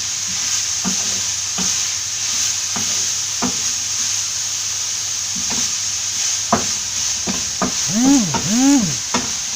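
Papaya thoran, Kerala style, stirred in a frying pan, with soft repeated scraping strokes over a constant sizzle and a few louder scrapes near the end; a single word is spoken briefly.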